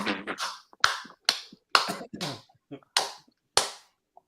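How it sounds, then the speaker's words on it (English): A run of sharp, isolated hand claps, about seven of them at uneven intervals, each with a crisp attack and a quick decay. The claps are close and fairly loud, with a little voice sound near the start. "I hear a bunch of clapping going on."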